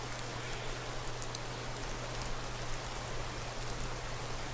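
Steady, even rainfall fills the open air in Skyrim Special Edition, a dense continuous hiss with a low hum beneath it, no talking over it.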